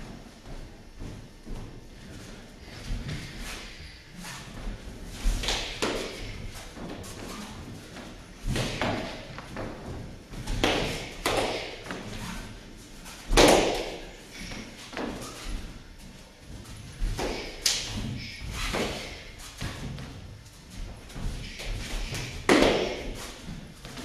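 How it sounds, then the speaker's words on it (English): Wooden sticks crack together in bursts during stick fighting sparring in a self-defense class, sharp taps and thuds landing in quick clusters with pauses between, fairly close, with a faint voice now and then. "you're going to see them first go through a round of stick fighting"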